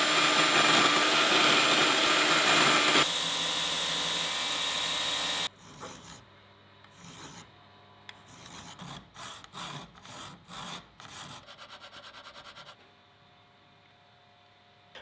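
Carbon fiber for an ultralight dagger guard being cut and ground, a loud continuous power-tool whine for about five seconds, then a series of short rasping grinding bursts with pauses, close up.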